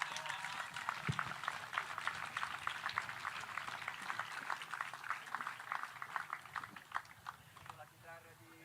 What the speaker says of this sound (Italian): L'applauso